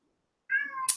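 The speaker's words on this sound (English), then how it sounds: "my cat is making a bunch of noise" A pet cat meows while playing with a Christmas box, giving a single drawn-out, wavering meow close by, followed by a brief sharp rustle or crinkle at the end.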